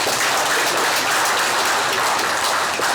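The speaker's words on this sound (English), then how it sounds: "I think it deserves a big round of applause." A crowd at a formal signing event between the Nigerian government and a university staff union applauds loudly and continuously, a dense hiss of clapping that sounds almost like rain.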